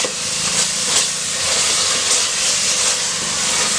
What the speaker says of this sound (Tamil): அதனால் இதை நல்லா வதக்கிக்கணும்.